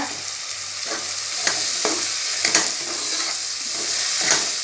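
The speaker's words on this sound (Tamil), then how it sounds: "தக்காளி நல்லா வதங்கிடட்டும்" Tomatoes for egg biryani sauté in a pan with a continuous, fairly loud sizzle, broken by regular soft scrapes of a stirring spoon every second or so, and nobody talks.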